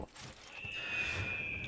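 A horse in the video game Assassin's Creed gives a short whinny, a thin sustained neigh heard fairly quietly after a brief soft thump, with no talk over it.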